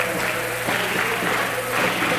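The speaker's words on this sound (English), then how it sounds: "Home crowd on their feet making some noise." A home basketball crowd in a high school gym stands and cheers during starting lineup introductions, a dense, steady roar that swells and dips without pause.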